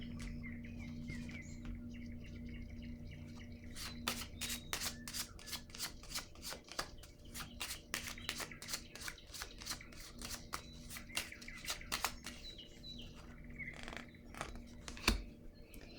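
Playing cards are handled and laid down, with a long run of rapid, crisp flicking and riffling clicks up close over a steady low hum, ending in a sharper slap as a card lands.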